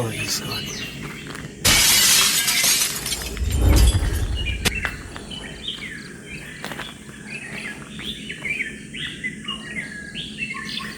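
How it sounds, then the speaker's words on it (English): Cinereous Tit calling in forest at Nameri National Park, Assam: bright repeated chirps and short calls carry throughout, interrupted early by a loud burst of crackling, shattering noise that lasts a couple of seconds. "the Cinereous Tit adds vibrancy to the forested landscape with its dynamic behavior and sweet calls"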